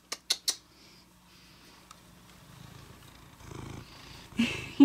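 A pet cat purrs softly and steadily close by in a room being rearranged, a low continuous rumble under a few sharp knocks and clicks at the start and some rustling later.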